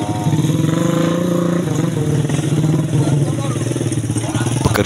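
A motorcycle engine runs and revs with a close, rattling putter, loud and continuous throughout, while people talk over it.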